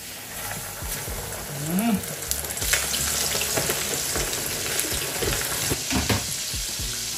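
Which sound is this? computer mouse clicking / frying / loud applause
frying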